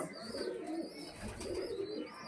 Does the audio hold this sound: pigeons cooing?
yes